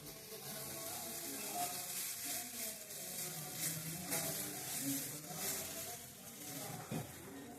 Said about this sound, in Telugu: చూడండి దోశ వేస్తున్నాం.